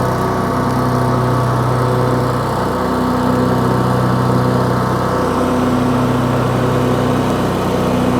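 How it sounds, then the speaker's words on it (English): A Kubota T1870 lawn tractor runs at full throttle with its PTO mower deck engaged, giving a loud, steady engine drone and whirring blade hum that continues evenly from close by. "and now we're mowing."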